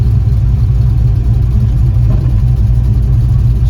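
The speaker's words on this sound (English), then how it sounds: "Let's take it for a test drive." A work truck with a newly repaired transmission and no working power steering drives on a test run, its engine a steady, loud low drone heard from inside the cab.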